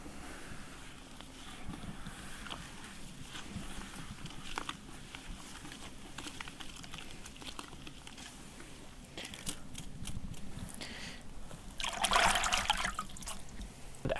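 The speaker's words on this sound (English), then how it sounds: "you do want the feed to be completely submerged in water. It's good to mix it up a little bit too" Chicken feed is stirred while fully submerged in water, faint sloshing and trickling with soft wet stirring, quiet and uneven, rising to a brief louder splash near the end.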